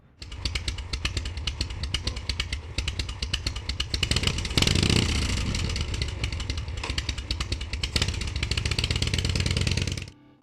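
Harley-Davidson Fatboy motorcycle engine runs with a loud, rapid rumbling pulse, steady throughout with a brief surge of throttle midway before cutting off at the end.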